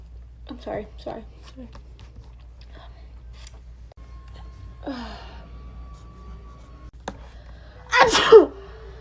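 A person's sneeze bursts out loudly near the end, preceded by faint breathy gasps, small clicks and soft vocal noises in an otherwise quiet room.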